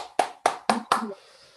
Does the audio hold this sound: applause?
yes